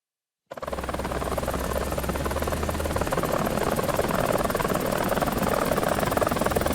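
In War Thunder, a dual-rotor helicopter's blades chop and whir steadily, starting abruptly after a brief silence and holding loud and close throughout, with no talking.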